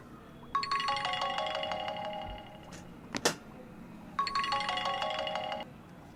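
A phone ringtone plays in two bursts of a repeating electronic melody, each lasting about a second, separated by a short pause with a brief click between them, moderately loud and clear with no voices.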